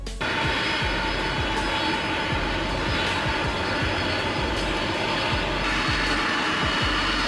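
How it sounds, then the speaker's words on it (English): A Boeing 747-400 Dreamlifter cargo aircraft, a modified jumbo jet for hauling large aircraft parts, sends out a loud steady jet engine roar with a broad rushing whine that holds constant throughout. "C-747 Dreamlifter, a special version of the Boeing 747-400, designed to transport large aircraft components"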